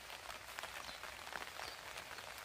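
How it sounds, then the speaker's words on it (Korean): Rain falling steadily outdoors at a traditional Korean hanok house with a garden, a soft, even hiss of drops pattering on surfaces, faint and continuous with no voices. "전국적으로 비가 내리고 있는 것 같습니다."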